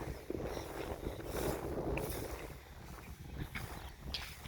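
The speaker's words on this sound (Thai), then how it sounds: "ลมทั้งวันเหมือนเดิมครับ เป็นลมเย็น ไม่ใช่ลมหนาวครับ" Cool wind blows steadily across an open rice field of flattened, harvested-ready crop, a soft continuous rushing with gusty swells and light rustling, fairly faint and with no one speaking.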